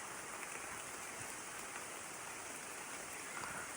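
Steady rain falls through African forest where wild chimpanzees shelter, a dense, even hiss with no breaks or voices, fairly soft and constant throughout.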